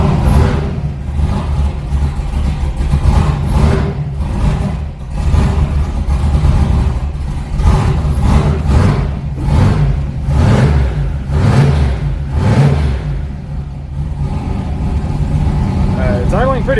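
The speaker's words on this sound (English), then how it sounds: "It's idling pretty rich right now." A turbocharged LS V8 in an S10 truck idles rich with a deep, rough rumble that rises and falls a little, running steadily throughout at close range.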